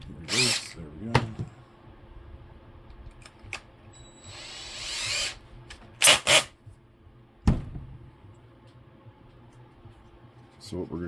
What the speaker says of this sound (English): I'll show you what we do with the drill.